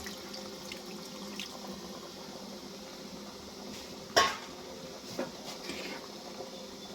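Spiced water poured into a pot of chicken and potato curry gives a steady wet wash, with a single sharp clink of a utensil against the pot partway through.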